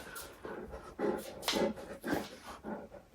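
A dog at home whimpers and pants close by in short uneven bursts, with soft rustling between the sounds.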